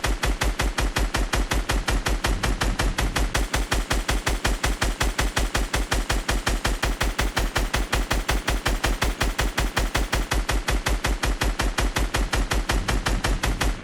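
Rapid automatic gunfire from Fortnite, original and updated versions, a loud, steady stream of closely spaced shots with a metallic shell-casing tick running nonstop with no voices.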